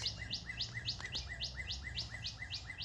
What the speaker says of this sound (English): Something's wrong with that bird.